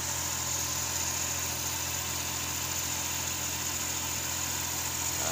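A car engine idling steadily with a constant low hum and vibration, close and even with no speech.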